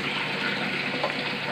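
Tap water pours steadily over fresh coriander as it is washed in a home kitchen, a continuous close gushing splash with no voices.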